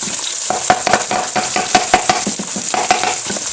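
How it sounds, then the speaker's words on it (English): A loud, continuous sizzle of beef frying in a pan for hibachi fried rice, with frequent rapid clicks and scrapes of a spatula stirring throughout. "Okay, fry it a little bit more."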